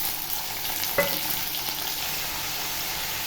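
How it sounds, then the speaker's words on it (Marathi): Green beans and potato sautéing in hot oil with garlic, cumin and curry leaves in a kadhai, giving a steady close sizzle with a brief stir clatter near the start. "चांगलं परतून घ्यायचं लसणामध्ये"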